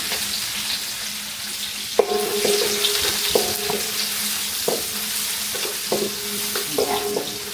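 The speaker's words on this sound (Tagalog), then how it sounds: "ilagay na natin sibuyas dahil may init na mantika" Onions sizzle in hot oil in a pan for kare-kare, a steady frying hiss broken by repeated clanks and scrapes of a stirring utensil, close and fairly loud with no talking.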